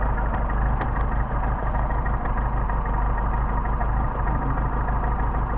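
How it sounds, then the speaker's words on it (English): A vehicle engine idles steadily at close range, a low continuous rumble with an even, unbroken tone and no revving throughout. "Got a good idle."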